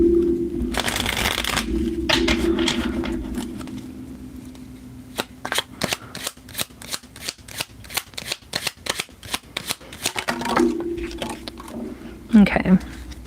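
Tarot cards being shuffled by hand, a long run of crisp riffling flicks at close range, with talk before and after the shuffle.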